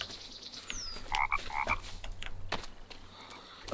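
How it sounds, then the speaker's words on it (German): Frog croaking in a forest in the video game The Forest: a few short, close croaks around the middle against quiet woodland ambience with scattered clicks and a faint bird chirp. "Der unsichtbare Frosch ist auch wieder da."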